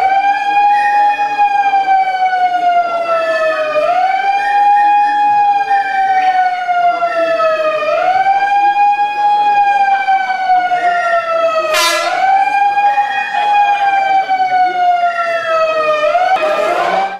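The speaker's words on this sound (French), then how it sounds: "les opposants déclenchent la sirène de leur mégaphone" A loud megaphone siren set off by opponents at a municipal council meeting wails in repeated rising-and-falling sweeps, continuous and close, with brief clattering bursts.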